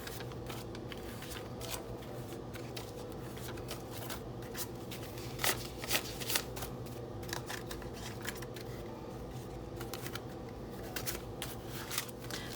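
Cash banknotes are handled up close, counted and stuffed into envelopes, giving faint repeated paper rustles, flicks and slides over a steady low background hum.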